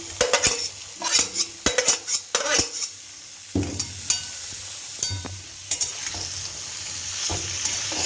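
Boiled young jackfruit and potato stir-fry in spiced oil, with a busy run of metal spatula clatters and scrapes against the pot over a moderate sizzle, then steadier frying with sparser stirring and no voices.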